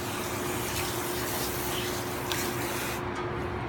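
Water sprays steadily from a handheld nozzle held close against a small puppy's fur during a bath in a tub, a constant hissing rush that cuts off near the end.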